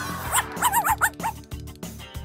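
A dog gives a quick series of short, sharp barks and yips, close and fairly loud, with brief pauses between bursts.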